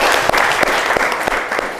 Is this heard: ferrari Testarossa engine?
no